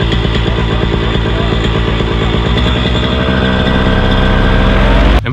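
A paramotor engine revs up steadily before wing inflation for a powered paraglider launch, a loud, close, continuous harmonic drone holding throughout and cutting off abruptly at the very end.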